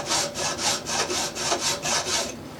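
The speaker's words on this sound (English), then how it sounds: "you can even out your saw marks by filing this way" An aggressive double-cut metal file stroked rhythmically across a workpiece to even out saw marks, about nine steady rasping passes in quick succession, close and loud with no talking.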